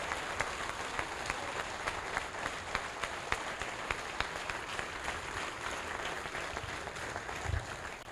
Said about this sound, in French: je veux que vos applaudissements les atteignent à cette heure